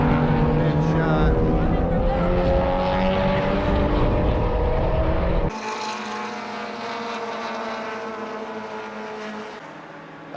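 Race cars lapping the Mid-Ohio circuit during a Gridlife meet, engines droning loudly and steadily with shifting pitch as cars pass, the tone changing abruptly midway as a different car goes by; wind and faint talk may sit beneath.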